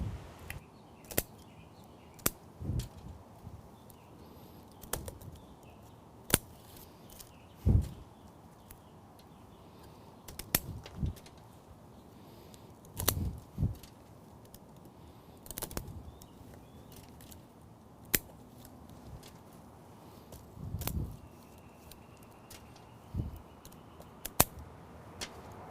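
Pruning shears snip back new growth on an azalea bonsai, giving sharp, isolated clicks spaced a few seconds apart, close and crisp against a quiet background.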